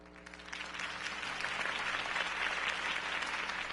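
A crowd applauds after a campaign speech in a film, a dense, steady wash of clapping that swells slightly over several seconds with faint voices beneath.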